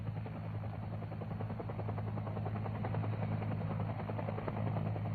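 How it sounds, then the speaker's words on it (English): Military helicopter hovering for a rope ladder or McGuire rig extraction, a steady loud rotor drone with a deep low hum and rapid blade chop throughout, no voices. "Rope ladder extraction is used when the helicopter cannot get near enough to the ground"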